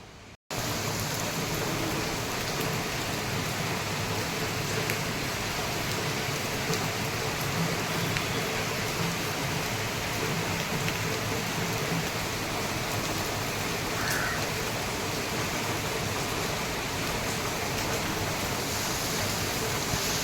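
Heavy rain pours down in a dense, unbroken hiss, loud and steady throughout with no voices.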